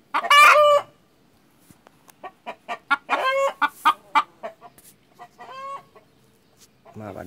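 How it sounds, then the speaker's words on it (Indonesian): A rooster crows loudly and close at the start and again midway, with repeated clucking calls in between and a brief low sound at the end, heard during a session on making compost from palm oil processing waste. "maaf ada gangguan tadi ayam."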